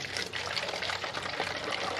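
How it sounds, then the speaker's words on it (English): Water poured through a funnel into a 2-liter plastic bottle during a classroom weather experiment, a steady close splashing trickle that runs without a break. "I'm going to fill one of them with water"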